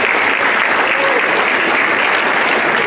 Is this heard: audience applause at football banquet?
yes